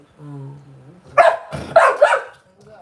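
A dog barks close by in three loud sharp barks after a brief tonal sound, with a person speaking nearby.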